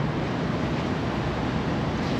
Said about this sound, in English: It is very windy outside, so we do have to be a little careful.